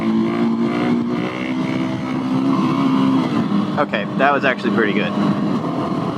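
A Husqvarna 701SM single-cylinder motorcycle fitted with a Leo Vince Nero exhaust idles and rumbles nearby, with a brief burst of revving near the end, while someone talks over it.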